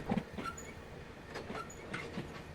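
HAA freight wagons rolling in Train Simulator: quiet rumbling wheel noise with faint clickety-clack rail joints and occasional squeals, steady and low.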